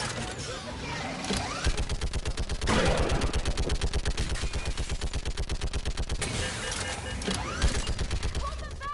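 A mounted gun firing in Mass Effect 3, rapid rhythmic bursts of heavy automatic fire running through most of the clip amid explosions and battle noise, with voices shouting over it.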